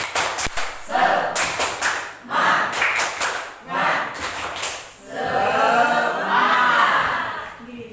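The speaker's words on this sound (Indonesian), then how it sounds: "Mari kita tepuk semangat dulu ya." Indonesian teachers and staff doing a rhythmic spirit clap during a positive school culture session, with bursts of group clapping in a set pattern alternating with shouted chanted responses, loud and close.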